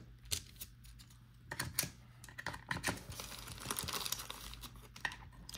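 Nintendo Switch game cards snap into a plastic card case, sharp close clicks and clacks in irregular bursts with some handling rustle between them.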